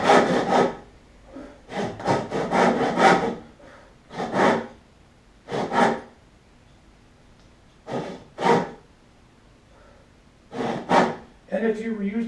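Hand saw cutting down through a log being notched for a log cabin, heard as bursts of rasping strokes separated by pauses, fairly close, with a person talking briefly near the end.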